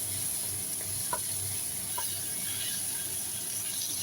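Onions sautéing in a pan, a steady faint sizzle and hiss running throughout with a few soft scraping stirs.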